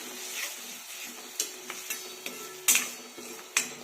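Garlic, onion and capsicum sautéing in a pan for Mumbai-style pav bhaji, a soft sizzle punctuated by several distinct metal spatula knocks and scrapes against the pan.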